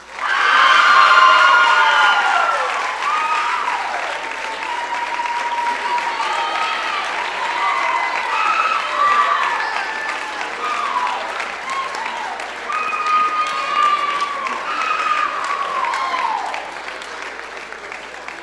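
A large crowd at a university homecoming coronation for its Blue and White Days royalty applauds loudly and continuously, with shrill whoops, cheers and shouting voices rising above the clapping throughout.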